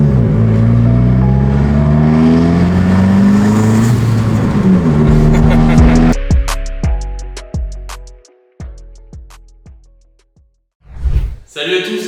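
A stage 3 tuned Abarth 595 engine warms up, holding a loud, droning idle that rises and falls for several seconds, then a string of sharp revs and crackling pops, with voices talking in the background.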